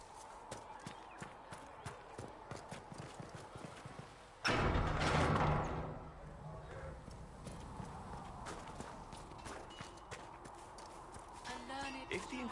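Rhythmic clip-clop of horse hooves at a steady gait in the video game Dragon Age: Inquisition, with a loud whooshing burst partway through and voices talking over the hoofbeats.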